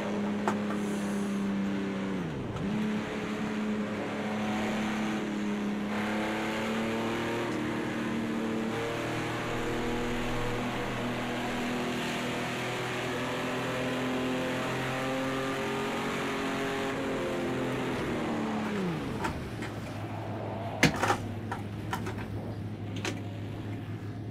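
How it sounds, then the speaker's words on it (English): A vintage race car engine in the racing game Project Cars 2 drones loudly and steadily, rising and falling through gear changes with a couple of deep dips in revs. "Oh, the sound of that engine."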